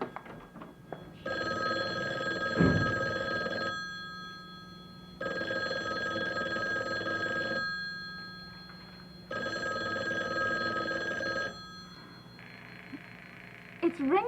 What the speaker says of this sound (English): It's ringing, but nobody's answering